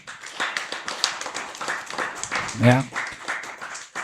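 A church congregation claps their hands in quick, scattered bursts under a steady stream of voices, with one louder thump midway.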